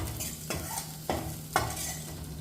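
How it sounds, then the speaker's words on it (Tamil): Onions, dried chillies and curry leaves sauté in a pan for South Indian rasam, a constant hiss with three distinct scraping strokes of a spoon at regular intervals, close and alone. "வெங்காயம் வந்து நல்லா ப்ரௌன் கலர் ஆகிற வரைக்கும் நல்லா வதக்கி விட்டுக்கலாம்."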